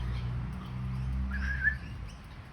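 A brief bird song rises faintly over a low rumbling background, one short chirping phrase lasting about a second.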